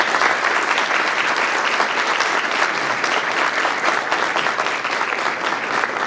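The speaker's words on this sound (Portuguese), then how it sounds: "E eu peço então uma salva de palmas para todos." Sustained, dense applause from a conference audience thanking panel speakers at an energy transition and ESG congress, steady and loud throughout with no pauses.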